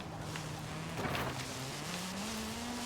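Cars racing in the video game Forza Horizon 5, a single engine droning steadily and rising slowly in pitch as it accelerates, with a faint whoosh of another car passing close.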